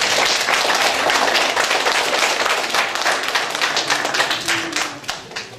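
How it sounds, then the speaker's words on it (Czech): Loud, dense applause from an audience at a Czech firefighters' pledge ceremony, steady clapping filling the whole stretch before thinning slightly at the end. "A velký potlesk paní Štrouchové."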